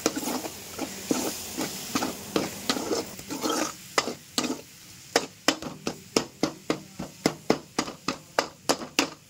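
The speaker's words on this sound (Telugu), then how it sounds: "ఇప్పుడైతే టమాటాలు వేసుకున్నాం కదా, బాగా కలిపెట్టుకుని ఒక 2 మినిట్స్ బాగా ఉడికించుకోవాలి" A spoon stirs tomatoes cooking in a pan for a peanut and chilli chutney, giving a steady run of short scraping strokes over a soft sizzle, close and clear with no voices.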